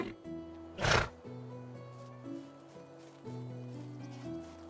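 A donkey in the medieval village game Medieval Dynasty lets out one loud, harsh bray near the start, over steady background music.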